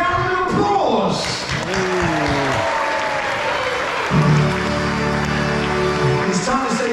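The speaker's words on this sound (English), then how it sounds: "round of applause." Applause from a family audience at a Sooty puppet show celebrating Sooty's 75th birthday, broad clapping rising in a crowd with a voice talking over parts of it.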